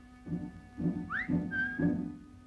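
A person gives a short rising whistle followed by a brief steady whistled note, set against evenly spaced soft low thumps, fairly faint overall.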